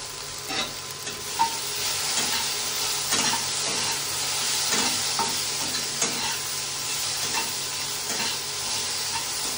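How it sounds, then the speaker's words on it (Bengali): Okra fries in a pan with a steady, close hissing sizzle that runs throughout, broken by faint scraping stir sounds and no voices. "ভেন্ডি ভাজা বসিয়েছি, শুধু ভেন্ডি ভাজাই করবো"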